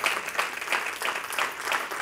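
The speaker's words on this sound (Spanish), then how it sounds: "Denle el aplauso al Señor" Congregation applause during a church sermon, a modest round of hand claps with a loose pulsing rhythm, fairly quiet and without talking over it.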